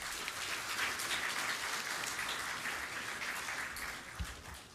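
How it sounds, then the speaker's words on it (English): An audience at a national conference session applauds a presenter: a soft, distant wash of many hands clapping, steady and fairly faint, with one louder thump near the end. "a round of applause"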